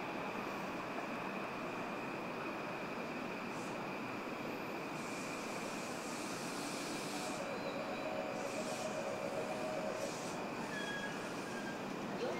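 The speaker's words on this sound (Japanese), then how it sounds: "2番線に回送電車が到着しております" An out-of-service JR East E235-1000 series Sobu Rapid Line train rolls into platform 2 at Tsudanuma station with a continuous heavy rumble, with brief wheel squeals and screeches rising above it.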